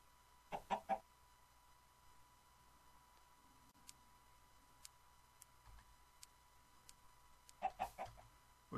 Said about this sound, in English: Where'd that other chicken go?